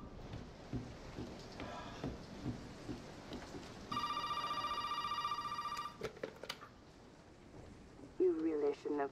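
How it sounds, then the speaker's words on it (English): An old telephone in the Resident Evil 7 video game rings in a steady electronic trill for about two seconds mid-clip, loud over dark rain-like ambience, footsteps and brief talk before and after. "Fine. I'll answer the phone."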